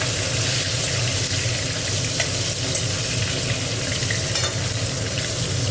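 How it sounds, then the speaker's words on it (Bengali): Pieces of fish fry in hot oil, producing a loud, continuous crackling sizzle with small pops scattered through it and no voices. "দেখো এখানে মাছ ভাজাগুলো বসিয়ে দিয়েছি, মাছ ভাজাগুলো হচ্ছে"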